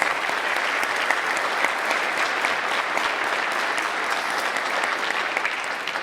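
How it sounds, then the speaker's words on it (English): Sustained applause from a pageant audience for the contestants, an even wash of many hands clapping throughout, moderately loud and unbroken, with no voices standing out. "So a big round of applause to all of those ladies."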